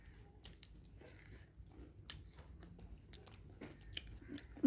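Someone eating piyaju, fried onion fritters, close by: faint, repeated crunchy bites and soft chewing in a quiet room, no talk.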